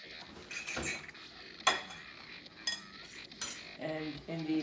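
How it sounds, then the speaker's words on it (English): A metal fork clinks and scrapes against a bowl while mixing ingredients for chicken Parmesan, a few sharp irregular taps and clatters, close and fairly quiet. "this is where you take the fork and you start mixing it all together"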